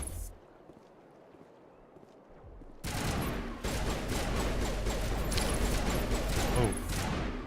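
Sustained crossfire of rapid gunshots in a Mass Effect battle against Geth, erupting suddenly after a quiet stretch into loud, dense automatic fire that continues without pause.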